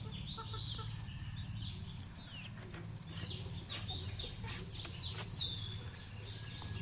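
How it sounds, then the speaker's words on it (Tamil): Chickens cluck and squawk in an agitated flock near an outdoor village cooking setting, several birds calling over a steady low background rumble, moderately close and continuous. "அடிச்சுக்குது கோழி எல்லாம்."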